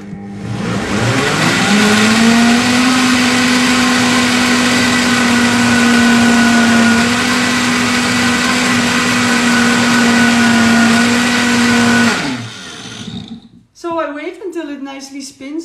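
An Optimum 920 blender runs on a medium setting, blending frozen mango into vegan soft serve with a loud, steady motor whine that holds for about twelve seconds before stopping, followed by brief talk.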